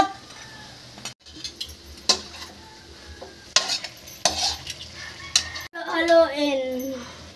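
Chicken being stirred in a pot with black pepper and fish sauce, with scraping and clinking of a utensil over a light sizzle, separated by brief pauses, and a voice speaking in the background near the end.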